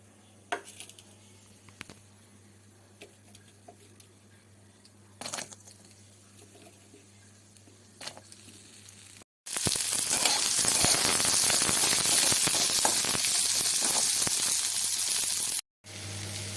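Chopped onions drop into hot oil with frying chilies and nigella seeds, bursting into a loud, steady sizzle that holds for several seconds after quieter kitchen clinks and taps.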